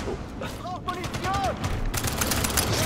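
Rapid bursts of gunfire in the video game Sniper Elite 5, with several cracking shots and echoing booms clustered together, heard under a voice talking.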